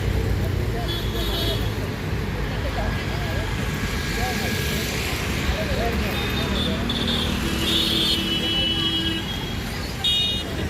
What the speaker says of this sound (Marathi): शेजारीच बघा रस्ता आहे ना त्याच्यामुळं आवाज ना गाड्यांचा लयच येतोय